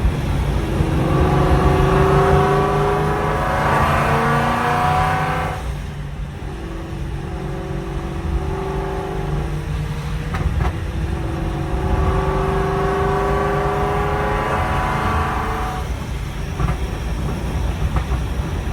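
A 1000hp Procharged Mustang rolls along, its drivetrain giving a steady loud whooshing roar that swells twice with rising whine and harmonic tones, no talk over it.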